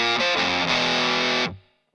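A thick, saturated fuzz electric guitar chord through a Mark III Tonebender pedal rings out for about a second and a half, then cuts off sharply, leaving a brief fading tail.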